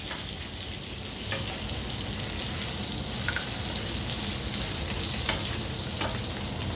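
A Christmas capon sears in a pan, browning on one side, with a steady close-up sizzle and frying crackle throughout and a few sharper pops and clicks from stirring or the pan; no one talks.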